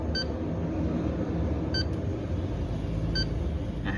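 An Arduino people counter beeps each time someone walks past: three short, bright electronic beeps about a second and a half apart over a steady low rumble of room noise.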